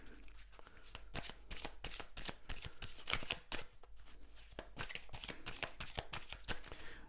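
Oracle cards shuffled by hand at close range, a dense run of quick, soft riffling flicks and taps that keeps going without a break, fairly faint.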